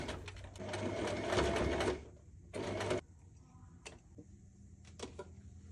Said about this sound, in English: Sew the pinned line as you can see with your sewing machine